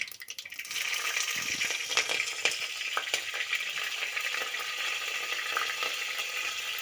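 Cumin seeds and green chillies frying in hot oil for a poori and aloo saagu recipe, a steady close sizzle with a few sharp crackles and stirring clinks, after a brief quieter start.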